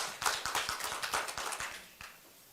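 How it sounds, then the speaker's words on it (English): Audience applause welcomes the president of the Association of Obstetricians and Gynecologists of Uganda to the stage at a health event, sounding as a loose scatter of claps that thins out toward the end. "Round of applause as he comes."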